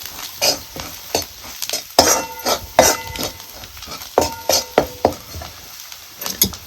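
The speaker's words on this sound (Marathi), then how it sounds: "आता ही चांगला मसाला ह्याच्यात परतून घेते." Spice masala with red chilli powder is sautéed in a pan for a village-style black bean aamti, a spoon stirring and scraping in repeated loud strokes over a soft background sizzle.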